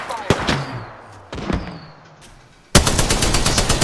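Gunfire in the video game Apex Legends: two loud single shots with echoing tails, then a sudden sustained burst of rapid automatic fire, close and loud.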